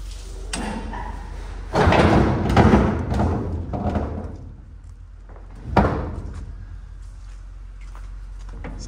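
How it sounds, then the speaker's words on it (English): A pickup truck bed tarp cover with bows is unlatched and cranked open from the back, giving a few hard thumps and a clattering rattle, then a quieter stretch and one more sharp knock, with no talking. "you just unlatch it and crank it open from the back"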